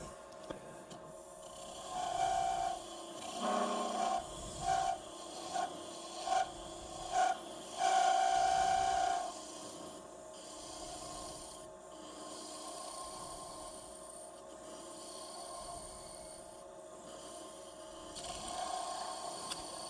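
Bursts of scraping and rasping from the heel of a wood-turning cutter against spinning wood on a lathe, in several short passes, with a steady machine hum carrying on between and after.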